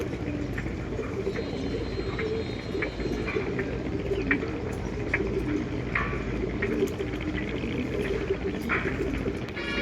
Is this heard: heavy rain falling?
no